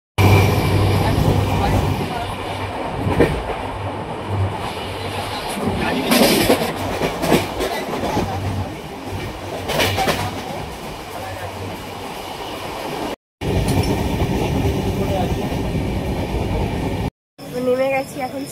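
A train runs on rails, heard from inside a carriage: a loud, continuous rumble with rhythmic clickety-clack of wheels, briefly cut off twice, while people talk under the noise.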